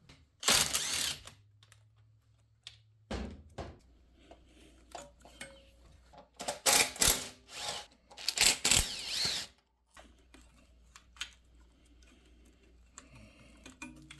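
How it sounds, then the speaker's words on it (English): Ratchet clicks in bursts while removing a bolt on a Honda Grom motorcycle, near and fairly loud, with quiet pauses between the ratcheting runs and no talking. "So we're actually going to remove this bolt, lift the tank up so we can get the evap canister out"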